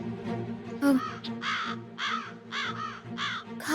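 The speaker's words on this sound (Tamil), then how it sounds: "காக்கா ஏன் இப்படி கத்துது?" A crow caws repeatedly in a quick series of five or six loud, nearby calls, each harsh and clipped, heard alone in a Tamil TV drama scene with no talking.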